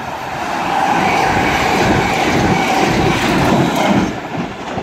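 A class 318 electric train passing at Carstairs on the West Coast Main Line, a loud close rumbling roar of wheels and motors that holds steady, then starts to fade near the end.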